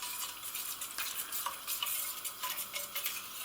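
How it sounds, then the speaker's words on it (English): Sugar being stirred continually in a pan over low to medium heat for eggless custard, giving a steady close scraping, swishing texture with repeated strokes and no talking. "We're just going to continually stir."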